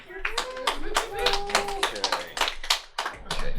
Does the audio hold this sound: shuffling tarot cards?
no